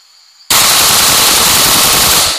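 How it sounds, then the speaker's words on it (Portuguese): A Galil 5.56 rifle fires on full automatic in a single sustained, very loud burst that starts abruptly and runs for about two seconds, close up and with no voices. "Ok, fuzil galil, sistema automático. Vamos lá ver se vai funcionar."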